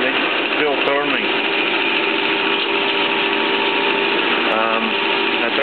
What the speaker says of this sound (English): I run it, I set it to neutral, and it's still turning.